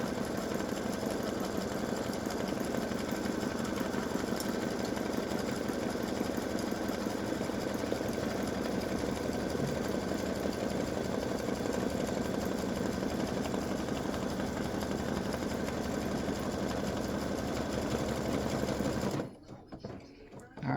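A sewing machine stitches free-standing lace dog paw earrings in one long unbroken run of rapid mechanical chatter, close and steady, stopping abruptly near the end.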